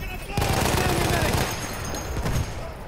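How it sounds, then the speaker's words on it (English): A machine gun in Battlefield 1 fires rapid bursts in a forest battlefield, loud and close, with a second shorter burst after a pause, amid faint background battle noise. "Machine gun. One of theirs."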